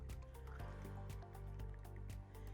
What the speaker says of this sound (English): So I'm going to put a little bit more water.